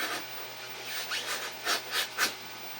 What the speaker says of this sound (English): Just doing little shavings here and there.